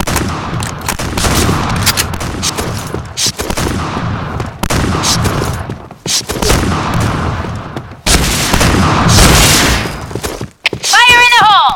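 Shotgun blasts ring out in the shooting game Point Blank, loud, close and repeated in dense bursts, with gameplay noise between them and a short electronic effect near the end.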